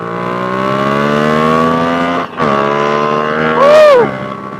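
A motorcycle engine revving up through the gears with a strong harmonic whine that climbs in pitch, drops briefly at a shift, then rises again; close and loud with no talking.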